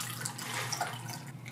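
A Cosmopolitan cocktail strained and poured into a glass: a short, steady trickle of liquid heard up close, with no talking.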